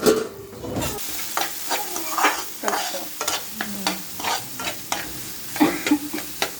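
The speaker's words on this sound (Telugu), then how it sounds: "స్టిర్ ఫ్రై లైట్గా సాల్ట్" Vegetables stir-fried in a pan with a light sprinkle of salt: close, repeated scraping stirring strokes over a steady sizzle, with no one talking.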